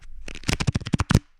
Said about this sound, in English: this is the sound of the ruffle